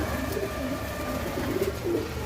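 Pigeons cooing near their eggs and newly hatched chick, soft low rolling coos repeating a few times close by over a steady background hum, with no talking.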